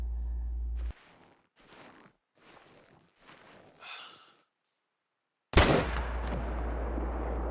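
A rifle shot fired at an animal in a hunting video game: a sharp, loud report near the end, after a stretch of quiet rustling and near-silence, with a ringing tail.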